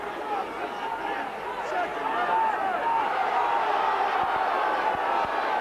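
A rugby league cup crowd at Whitehaven versus Warrington builds a rising chant, massed voices swelling behind a commentator speaking over the top.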